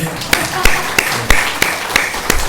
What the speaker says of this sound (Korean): 하나님께 영광 돌리는 박수입니다